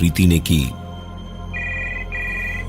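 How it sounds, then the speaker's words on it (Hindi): After a short burst of speech, a telephone rings with two electronic trilling pulses, moderately loud and close, in a Hindi horror audio story. "प्रीति ने जाकर फोन उठाया तो दूसरी ओर से एक जानी पहचानी आवाज आई।"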